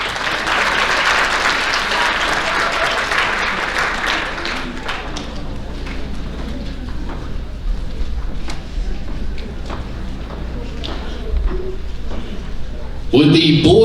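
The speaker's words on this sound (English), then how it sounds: "Let's give these ladies one more round of applause." Applause for award winners at a high school athletic banquet: a burst of crowd clapping that fades over the first few seconds into room chatter and murmuring voices, with a sharp clatter or bump at the very end.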